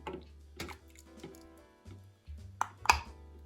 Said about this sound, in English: That's the sound of lids vacuum sealing.